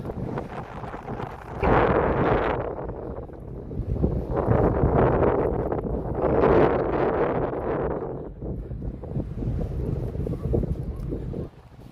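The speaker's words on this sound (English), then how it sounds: "sorry about this wind, guys" Gusty wind buffets the microphone on a blustery seaside town walk in Lowestoft, roaring in loud surges that swell and ease over several seconds, with a brief lull near the end.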